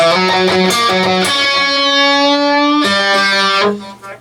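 A short melodic phrase on a bright, sustained electric guitar, a few quick notes then a long held bend, pulled off to an open G, followed by more picked notes before fading out.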